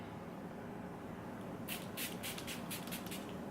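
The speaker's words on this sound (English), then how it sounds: "Now I'm gonna spray my face with this Smashbox primer water." Smashbox primer water is misted onto a face in a quick series of soft spritzes, quiet and close, following a faint hush.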